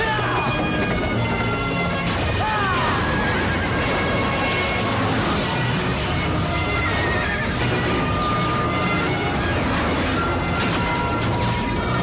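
Unicorn horse from Power Rangers Mystic Force neighing and whinnying loudly over a busy, dense action soundtrack, with clip-clopping hooves and crashing effects throughout, no talk.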